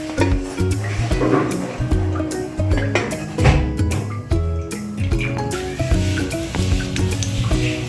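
Oil sizzling and spattering in a pan on a home gas stove as curry leaves go in, a loud close crackle with stirring clinks and scraping throughout.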